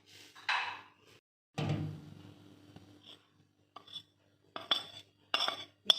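Spices and ingredients being mixed in a bowl for homemade Kurkure, with intermittent scraping, clinking, and knocks of a utensil against the bowl, separated by short quiet gaps, close and fairly clear.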